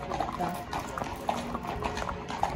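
Horses' hooves clip-clop in an irregular trot, about six crisp knocks over a steady murmur of outdoor noise and distant voices.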